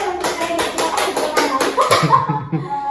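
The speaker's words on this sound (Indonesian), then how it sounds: "Ya, tepuk tangan dulu." Several people clap hands together in a loose, rhythmic burst to welcome a former lecturer, the claps sharp and close, with voices talking and cheering over them toward the end.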